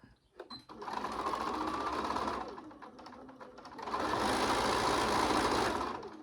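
A sewing machine stitches across the corners of a small drawstring bag in two bursts of fast, buzzing motor chatter. A short pause falls between them, and the machine is close and clear with no talk over it.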